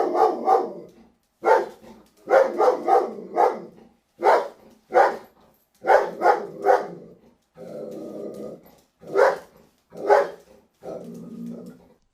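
A reactive dog barking in repeated loud bursts of single and doubled woofs, close by, with a low growl between barks and no talking.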